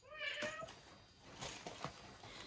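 A woman imitates a cat, meowing in a couple of drawn-out, wavering calls, faint and a little distant, with soft background noise around them.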